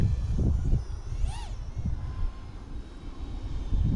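A BetaFPV Twig 4-inch ultralight FPV racing drone in flight, its motors giving a steady buzzing whine with a brief rising and falling pitch sweep, heard against breezy outdoor noise.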